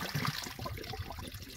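Water pours and splashes out as a pool vacuum is emptied, a faint, close, continuous gush with no talk.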